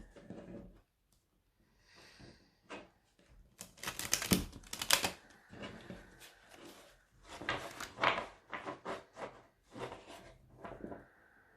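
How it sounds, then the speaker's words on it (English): A Fenestra oracle card deck is shuffled on a table, giving quiet, irregular bursts of papery riffling and tapping with short pauses between them, close to the microphone and without speech. "Let's give it a shuffle for the energies."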